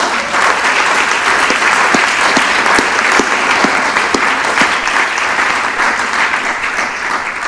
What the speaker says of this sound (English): another round of applause for our board members